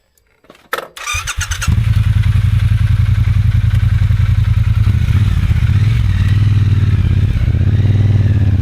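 A 2024 Triumph Bonneville T120 motorcycle cranks and fires up with a few clattering thumps, then settles into a loud, steady close-up engine rumble with a slight rise in revs near the end.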